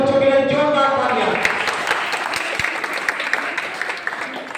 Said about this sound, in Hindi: एक बार सभी बच्चों के लिए जोरदार तालियां।